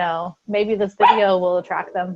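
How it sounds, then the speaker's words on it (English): A pet dog barks indoors in short yips and whimpers, mixed with and partly hidden by someone talking close by. "That's my dog, sorry."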